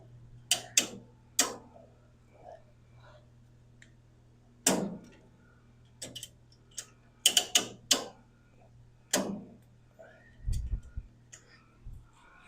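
On a 1929 Chevrolet coupe being converted to a roadster, a Lokar emergency brake lever clicks through its ratchet, giving a few sharp, close clicks in small groups over a low steady hum, with short gaps between.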